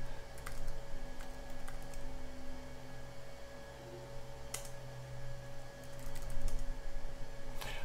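Soft clicking of a computer keyboard as someone types to log in to a serial console, with irregular bursts of keystrokes over a steady machine hum.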